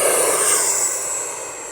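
A radio-controlled F9F-8 Cougar jet model flies straight toward the crowd, its turbine emitting a loud, piercing high whine with a rushing roar that fades slightly as it passes, with no voices.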